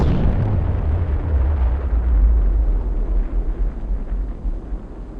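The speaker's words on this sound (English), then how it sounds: "Big bomb." Archival footage of a big nuclear bomb exploding over desert test grounds: a loud, sustained low rumbling roar that fills the whole span and slowly fades, no talk.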